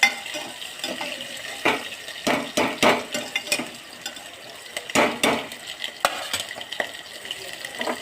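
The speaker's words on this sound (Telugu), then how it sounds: "శనగపప్పు, ఆనియన్, పచ్చిమిర్చి వేసి మంచిగా కలపండి." Chana dal, onion and green chillies stirred in a hot pan, with a run of sharp, close scraping and clattering spoon strokes in irregular bursts over a low sizzle.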